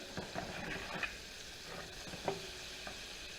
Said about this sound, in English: You're going to be amazed what happens when this butter actually starts to melt in here.